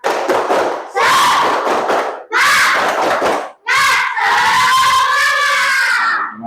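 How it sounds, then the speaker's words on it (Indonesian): Children in an Indonesian classroom shout the rhythmic 'tepuk semangat' spirit clap chant, loud bursts of voices with claps in several phrases, the last one a long drawn-out group shout. "coba Pak Danang minta untuk tepuk semangat dulu"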